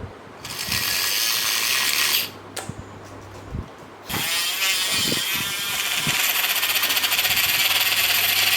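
A small blender or frother whips coffee with melted beans into foam, a loud steady whir that runs in bursts with a brief pause, then stretches out continuously.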